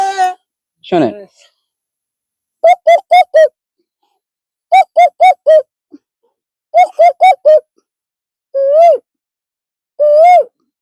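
A man imitates a cuckoo's call with his voice, giving repeated groups of three or four short rising whistled notes separated by pauses, then two longer drawn-out notes, with a brief spoken word near the start.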